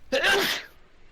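A single sharp sneeze, close and fairly loud, followed by a brief quiet moment.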